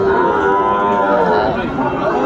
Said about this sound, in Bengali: এটা একটা ষাঁড় বাচ্চা